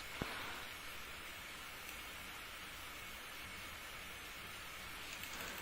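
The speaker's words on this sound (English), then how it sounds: "Oh, now it's raining." Rain falls in the wolf-simulation game WolfQuest as a steady, even hiss that holds at a moderate level throughout, with no talking over it.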